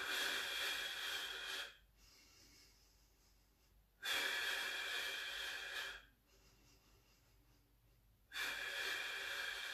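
Slow, deep breathing during a Pilates mat workout, long audible exhales alternating with quieter inhales in a steady paced rhythm, close and alone.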